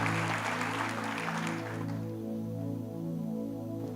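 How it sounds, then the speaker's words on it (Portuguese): Church congregation applauding during a sermon, a short burst of clapping over sustained organ or keyboard chords that continue after the applause dies down. "Pode aplaudir Jesus."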